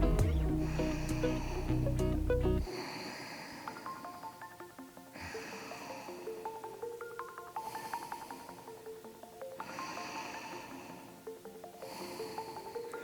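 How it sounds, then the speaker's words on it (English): Even, slow breathing in and out during a yoga pose: soft airy breaths recurring at a steady pace under quiet background music, faint and close. "Even inhales and exhales here."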